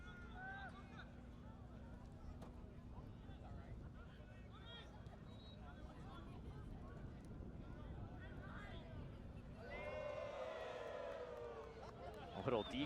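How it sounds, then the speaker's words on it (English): A soccer stadium crowd, heavily made up of LAFC supporters at a preseason match against St. Louis, keeps up a steady murmur under speech, then swells into a rising chorus of oohs and aahs near the end. "A little deke from the LAFC keeper that draws the oohs and ahs from a heavily LAFC crowd"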